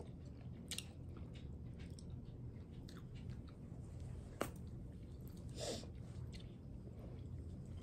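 Exotic Asian bubble gum being chewed close up, soft wet smacking and squishing in an irregular rhythm with a few sharper clicks, quiet and alone without talk.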